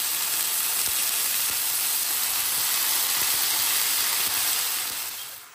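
Chopped leafy greens dropped into a pan of frying eggplant give a loud, steady steamy sizzle and hiss that holds evenly, then fades slightly at the end; no voices.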